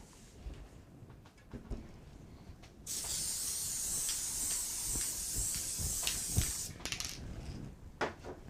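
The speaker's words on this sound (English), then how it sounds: "And I am going to use some fabric spray." Fabric spray hisses from an aerosol can onto quilting fabric for a bench pillow, one continuous spray of about four seconds, close and clear, with light handling taps before and after.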